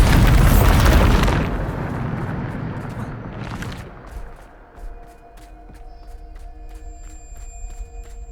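In the video game Hogwarts Legacy, a Bombarda spell sets off a heavy, booming explosion that rumbles and fades. A second, smaller blast follows, then a quieter stretch with ringing tonal effects.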